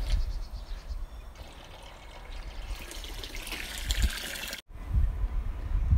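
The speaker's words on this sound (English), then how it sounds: "we've thrown water all over. Giving it a rinse." Water splashes and pours steadily over a van's surface as it is rinsed nearby, rising into a brighter spray before a brief cut, then continuing.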